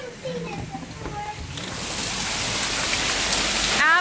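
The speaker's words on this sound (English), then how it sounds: "I've never seen hail this bad ever." Hail pelts a van in a severe storm, a dense rattling patter that builds steadily louder over a few seconds, with voices talking faintly beneath it.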